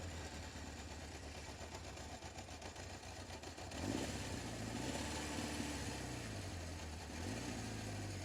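A 1977 Honda CB750 motorcycle cold starts: a steady low idle, then the engine catches fuller around the midpoint and settles into a burbling idle with slight rises and dips in revs, close and clear with no talk.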